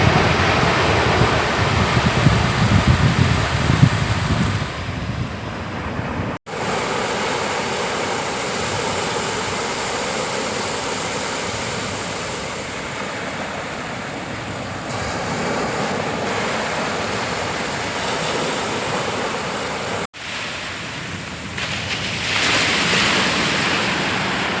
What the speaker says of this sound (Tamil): அந்த கடல் நம்ம அலையை வந்து என்னோடய காலை தொட்டு தொட்டு போகிறது ரொம்ப அழகாக